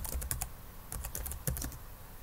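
A password is typed on a computer keyboard in short bursts of close, crisp key clicks with brief pauses between clusters.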